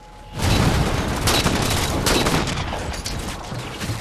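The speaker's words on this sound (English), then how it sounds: "never noticed how deadly my rifle can be until now, because I'm getting shot with one" Dense gunfire and explosions from the video game Halo 4, a loud, sustained rattle of rifle shots and blasts starting abruptly and continuing without a break.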